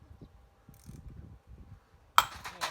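A bolt being screwed in against the piston of a disassembled 5200-model chainsaw gives a quiet stretch of faint clicks and handling noise, then a sudden louder burst of metallic ratcheting rasps near the end.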